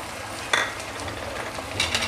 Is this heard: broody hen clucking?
no